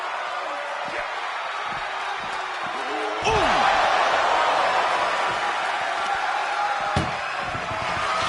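At a wrestling event, an ambulance door is slammed with a heavy bang midway, and a second sharp thud comes later. Arena crowd noise fills the background, and commentators talk throughout.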